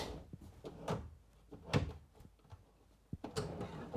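A wooden kitchen drawer on newly fitted runners slides in aboard a narrowboat being renovated, giving a handful of short scraping and knocking bursts, close and moderately quiet, with pauses between pushes.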